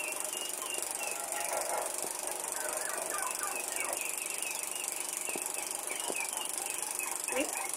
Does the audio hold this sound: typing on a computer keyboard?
no